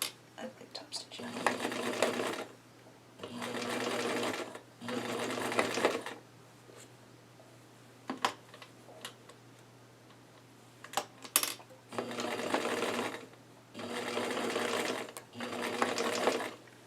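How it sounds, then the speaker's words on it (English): A sewing machine top-stitching garment shoulder seams runs in six steady bursts of rapid whirring stitches, each a second or two long, separated by short quiet pauses, close and clear. "I'm going to sew top stitch the shoulder seams"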